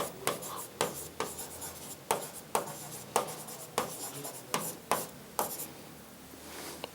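A pen or pencil scratches notes on paper in quick repeated strokes, a steady rhythm of short scribbles at close range across the whole stretch.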